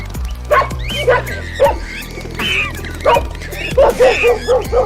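A dog barks and yips repeatedly in short bursts over steady background music, with brief whimpering sounds between the barks.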